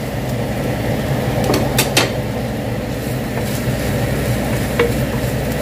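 Mushrooms fry with onions and ginger garlic paste in a pan, giving a loud, dense, continuous sizzle with a few sharp stirring knocks early on.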